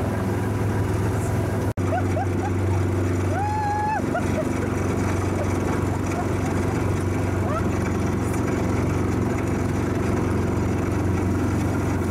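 A Kawasaki utility vehicle pulling a sledding tarp through snow in South Carolina holds a steady, close engine drone throughout, with one sharp click early on and brief voices over the running motor.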